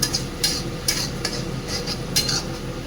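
Spiced food with salt and chili powder being stirred in a pan, with a few sharp scraping clinks of a utensil against metal over a steady low background, no talk.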